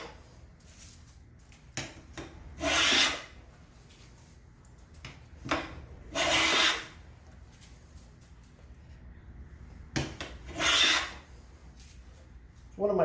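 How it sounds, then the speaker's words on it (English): Hand plane shaving freshly planed padauk wood while building a try square: three long, soft rasping strokes spaced a few seconds apart, with quiet pauses between and no talking. "Get some strokes going there. I actually love this Paduke when it's freshly planed."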